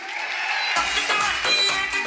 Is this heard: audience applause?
yes